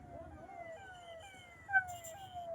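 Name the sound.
ambulance siren during road blockade protest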